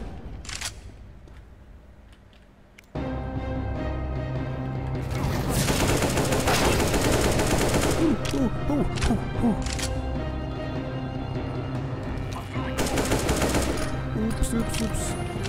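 Counter-Strike: GO gunfire erupts after a quiet lead-in: loud, close rifle bursts and sharp single shots in quick succession, sustained through most of the stretch, with a voice talking at moments.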